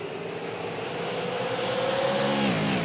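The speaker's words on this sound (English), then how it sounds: "Nothing shows you where those cars are as they blow by you one after the other" Race cars in the iRacing video game blow past a stationary trackside camera one after another at Nashville Fairgrounds Speedway, engines rising in pitch as they approach, then dropping away in a continuous roaring stream.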